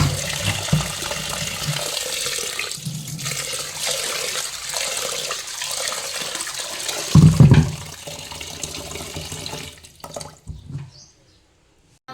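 Mixed whole grains and pulses are washed in water, with sustained sloshing, splashing and swirling. Heavier pours come in bursts, and the sound ends with a few drips before falling silent.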